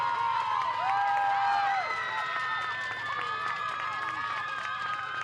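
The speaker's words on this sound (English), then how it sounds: "The Springboro crowd is getting loud over here to our left." A high school softball crowd at a district final cheers and shouts loudly and steadily, with whistling-like tones and voices blending into a continuous roar.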